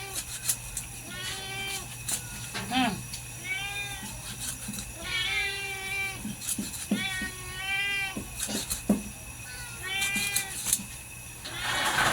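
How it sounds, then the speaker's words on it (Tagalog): A cat meows again and again at close range, each call drawn out and insistent, with short pauses between them and faint human voices in the background. "Pusa. Pusa."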